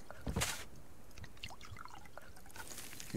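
Water poured onto crops in the survival game Subsistence: a short splashy burst near the start, then light dripping and trickling against quiet ambience, with another soft pour at the end.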